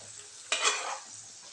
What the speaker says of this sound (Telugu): ఫ్రై అవుతున్నాయి కదా, ఇప్పుడు కొంచెం మసాలా నీళ్ళు కూడా వేసేసుకుందాం